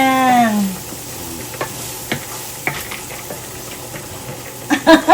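Aromatics being stir-fried in a pan before clams go in for chili-paste clam spaghetti: a soft, steady sizzle with scattered scraping stirs and clicks of a utensil, ending in a few louder knocks.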